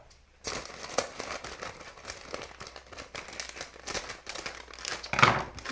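Packaging of Halloween decorations being opened with scissors: close, crinkly rustling and crackling of plastic and paper in short irregular bursts, fairly quiet throughout.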